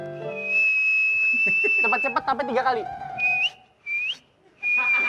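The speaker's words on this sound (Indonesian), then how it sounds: "Siulannya cepat." A person whistles sharp, high notes, first a long steady tone and then several short rising bursts. A voice speaks briefly over the middle.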